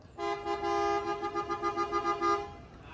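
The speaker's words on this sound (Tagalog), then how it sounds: "Ito, busina tayo." A full-size SUV's horn honks in a rapid series of short pulsing toots, loud and close, lasting a few seconds with no talking.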